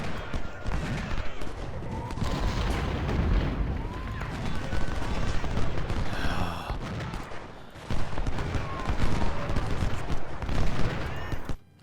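Musket volleys crackle in a Civil War battle in the video game Ultimate General: Civil War: dense, continuous gunfire with overlapping shots and heavier booms, loud throughout with no clear speech.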